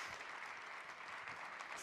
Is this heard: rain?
no